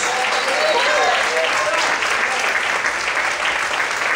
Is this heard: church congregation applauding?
yes